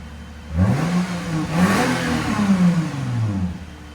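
A 2008 Lexus IS 250 with a 2.5L V6 and a Valvetronic Designs universal muffler on a cold day gives two close, quick revs, each exhaust note rising and then falling back to a low idle.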